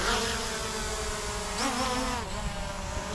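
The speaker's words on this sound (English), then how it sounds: "we're gonna go ahead and get the drone in the air right away" Holystone HS600D drone propellers buzz steadily in flight, a close, continuous high whine with a slight pitch shift partway through, with no talking.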